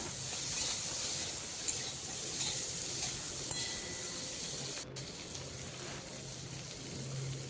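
Unripe green tomatoes drop into hot oil with already-fried ingredients for a sour dried-fish curry, giving a steady, close, even sizzling hiss that holds for several seconds with no talking.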